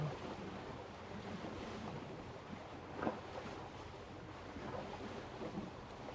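Steady ocean surf with waves washing in continuously, a broad soft wash of water and light wind noise, one slightly louder swell about halfway through, no voices.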